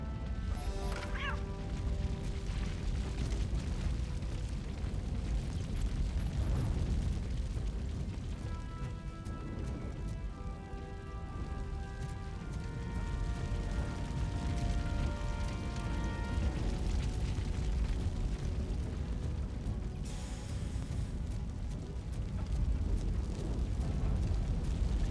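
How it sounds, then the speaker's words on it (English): Fire crackling and roaring in RoboCop: Rogue City, a dense continuous rushing burn with scattered pops, loud and steady throughout, with a brief voice near the start. "Fire is blocking the way."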